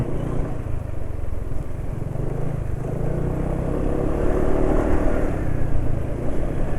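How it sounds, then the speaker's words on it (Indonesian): A motorcycle engine lubricated with X-Ten Double Ester JASO MB oil runs unevenly, its rough low rumble idling close and steady before rising slightly louder in the second half, with no talk over it. "karena suara mesin sudah mulai kasar"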